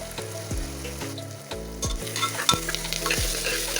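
Curry leaves sizzle in hot oil for a Kerala-style beef curry, with loud steady frying under regular scraping stirs against the pan, roughly every half second.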